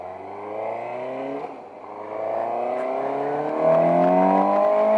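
Close engine of a 2020 Suzuki GSX 750 S motorcycle under load while riding with the visor open, revving up through the gears with rising pitch and a brief dip between shifts, steady wind noise underneath.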